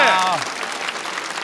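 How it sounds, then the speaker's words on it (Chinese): A comedy show audience breaks into steady clapping that fills the room, while a voice speaks briefly over the start. "让我们再次把掌声送给各位。"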